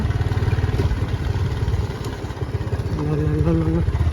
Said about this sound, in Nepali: बाइक आयो बाइक उठ्यो